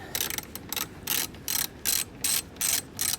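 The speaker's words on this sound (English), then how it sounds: "now this last screw we've got to get out is a T25 bit" Ratchet driving a T25 bit to back out the last screw on a Jeep Wrangler JL front light housing, a steady run of about nine quick, evenly spaced clicking bursts, close and clear with no talking.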